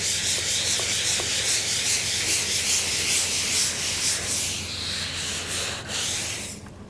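Blue paint being rubbed and sanded off a patinated roof surface, a steady, close, continuous abrasive scrubbing that runs unbroken with slight swells in intensity.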